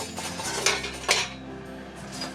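Hand-cranked food mill grinding cooked tomatoes for spaghetti sauce, close metallic scraping and clanking with two sharper clinks over a steady low hum.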